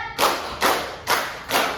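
Four evenly spaced hand claps ring out close and loud, each a sharp burst with a short fading tail, and nothing else heard between them.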